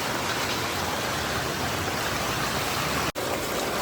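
Floodwater rushes along a road at Girnar after heavy rain, a loud, dense, unbroken roar of flowing water close by, with a single brief dropout near the end.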